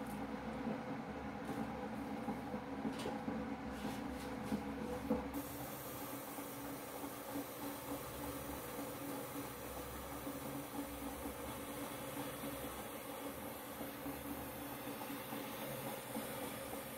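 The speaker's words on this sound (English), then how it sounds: "Have to make sure the steamer is far from you." A facial steamer gives off a continuous soft hiss that stays steady and fairly faint for the whole stretch, with no talking.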